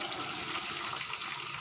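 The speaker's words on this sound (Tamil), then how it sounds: "நம்ம சாதம் வடிக்கிற மாதிரியே அப்படியே வடிச்சிருங்க" Boiled basmati rice for chicken biryani is drained, its cooking water pouring and splashing in a steady, soft rush at moderate distance.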